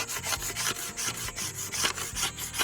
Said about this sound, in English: I'll go in there with this paint scraper.